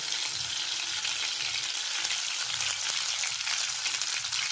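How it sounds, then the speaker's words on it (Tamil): Eggplant fries in hot groundnut oil in a pan, giving a steady, dense sizzle that holds through the whole stretch, with soft stirring movements underneath. "எண்ணெய் காஞ்சிருச்சு, கத்திரிக்காயை போட்டு வதக்கி எடுத்துக்கலாம்."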